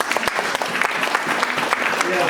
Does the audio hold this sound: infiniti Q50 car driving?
no